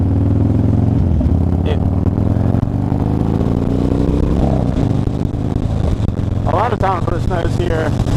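A Harley motorcycle riding along snowy countryside roads, its engine a steady, loud low rumble throughout with brief revving near the end, under continuous talking.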